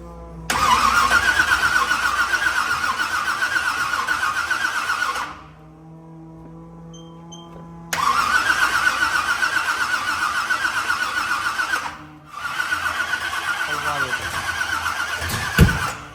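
A burnout truck's supercharged engine revs hard in two long loud bursts with a brief lull of idle between, then climbs again at the end, close and roaring.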